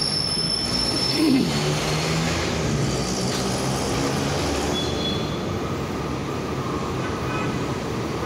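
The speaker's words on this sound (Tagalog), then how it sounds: "Ayan na, guys, ang LRT." A light rail (LRT) train rolls in with a steady rumble and a brief high wheel squeal, the noise filling the platform throughout.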